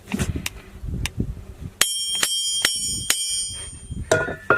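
A hammer strikes an anvil that floats in a bath of mercury, giving a series of about five bright, ringing metallic clangs with sustained high overtones, close and loud, following some low handling thumps.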